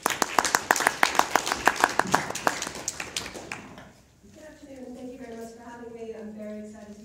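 An audience claps in welcome, a burst of rapid, fairly close hand claps that taper off after a few seconds, followed by a speaker's voice beginning to talk.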